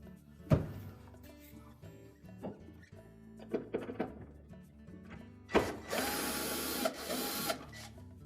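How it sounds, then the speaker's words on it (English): Screws are backed out of the evaporator fan bracket inside a GE refrigerator: scattered close clicks and ratcheting driver turns, then a longer burst of rapid mechanical whirring. "we'll remove the remaining 2 screws at the top"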